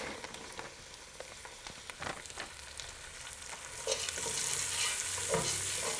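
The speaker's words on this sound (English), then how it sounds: "we're going to add in our peas" Peas tipped into softened onions frying in a pan, giving close scraping stir strokes over a steady sizzle that grows louder toward the end.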